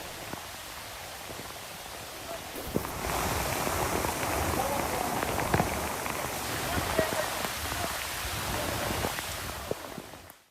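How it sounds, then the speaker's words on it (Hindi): Heavy rain during flooding in Austria pours down as a dense, steady hiss that swells louder after the first few seconds and stays constant, with scattered drop impacts before cutting off abruptly. "ऑस्ट्रिया में मूसलाधार बारिश और बाढ़ से इस वक्त जूझ रहा है।"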